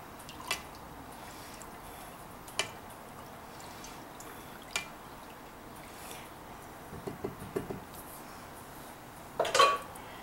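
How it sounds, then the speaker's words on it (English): Gentle stirring of a yellow liquid made from lemon peels, a few faint clinks and soft liquid swishes spaced several seconds apart, with a short cluster of small taps near the end. "let me just give it a little stir"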